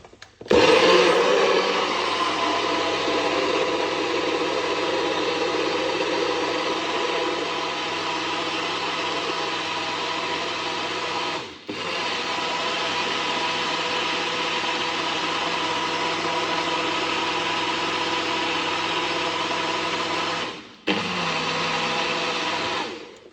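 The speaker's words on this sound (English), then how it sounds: "Let's blend it up." An electric blender whirs loudly and steadily as it blends cucumber juice, the motor dropping out briefly twice before spinning straight back up.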